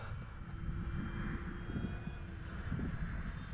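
E-Flite FW 190A RC model airplane at a runway, its motor giving a faint, steady drone with a thin whine running under it throughout.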